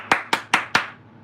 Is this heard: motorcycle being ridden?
no